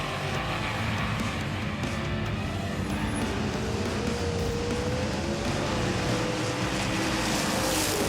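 Engine of a Jaguar racing car in a video game roars continuously at moderate level, with a rising and falling whine over broadband road and exhaust noise and no talking.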